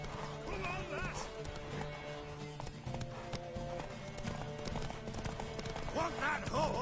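A horse gallops and whinnies in The Witcher 3, with rapid clip-clop hoofbeats running steadily under game music and voices calling out.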